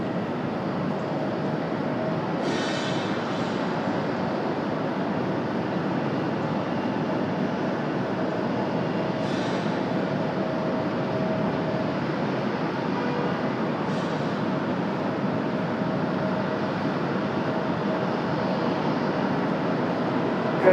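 A distant American Airlines jet rolls and climbs out from runway 23 right at Raleigh-Durham International, a broad steady roar that holds evenly throughout with no voices over it.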